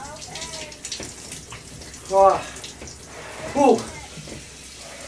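Cold shower water running in a bathroom, a steady hissing spray in the background while someone talks briefly and lets out two loud exclamations.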